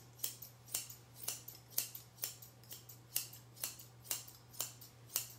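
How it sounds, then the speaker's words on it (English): Scissors snip close up through a Kerry Blue Terrier's fur in a quick, even rhythm, about two cuts per second, over a faint low electrical hum. "keeping my scissors straight this way, cutting in my angulation"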